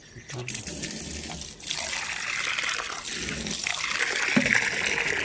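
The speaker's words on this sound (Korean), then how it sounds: "연화사에 물 먹는 데가 있습니다" Water runs continuously at a temple drinking fountain, a steady splashing rush that grows slightly louder, with a voice briefly heard over it outdoors.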